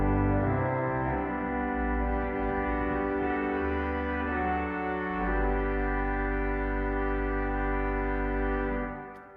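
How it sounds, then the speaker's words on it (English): Pipe organ in Bellshill Central Parish Church playing a full chorus of stops together, loud sustained chords shifting through several changes over about nine seconds, with deep pedal bass underneath and no talking. "All the stops can be played by themselves or together. So you can build up a nice chorus sound."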